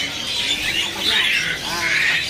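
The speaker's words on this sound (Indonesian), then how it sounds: "Di sini ada burung terucuk Jawa Timur ya." Trucukan bulbuls from East Java chatter and squawk at a bird kiosk, bright overlapping calls, near and moderately loud, over a brief muffled bit of background talk.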